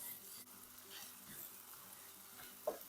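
Stir fry vegetables in a honey garlic ginger sauce with hot peppers sizzle steadily in a hot pan while being stirred, with a soft continuous hiss and occasional scraping. A quiet voice talks faintly underneath.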